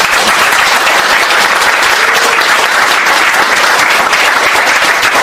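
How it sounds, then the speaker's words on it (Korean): A crowd at a Korean political talk event gives a big round of applause, dense continuous clapping filling the room, loud and close throughout. "박수 한번 크게."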